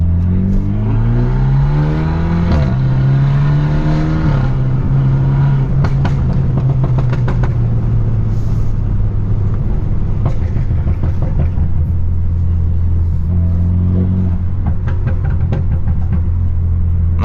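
BMW F30 328i with a stage 2+ tune revving under way, a loud continuous engine drone with a steady low harmonic that swells and falls through the gears, plus crackling bursts throughout.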